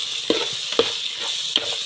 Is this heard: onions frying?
yes